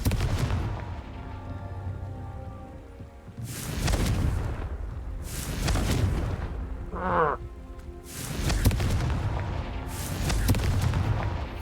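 Blasting-curse explosions in a Harry Potter video game, several heavy booms in sequence, each a loud burst with a rumbling tail, separated by brief quieter gaps.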